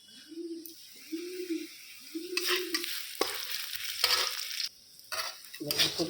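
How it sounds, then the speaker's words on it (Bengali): Maggi noodles cooking in a pan, with scraping stir strokes and a soft sizzle coming in bursts, while a pigeon coos rhythmically in the background early on. "ম্যাগি করে দিচ্ছি।"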